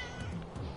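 A cat meowing in the motorbike video game Trials Fusion, heard as a single short, close meow, loud over a steady background of game sound.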